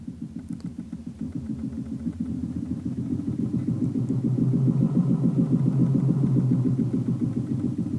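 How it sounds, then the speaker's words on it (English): A synthesized engine drone made in Logic Pro X's Ultrabeat rumbles low and steady, rising in pitch and loudness as it revs up like a car, pulsing continuously with no voices. "And now you kind of get a car revving up."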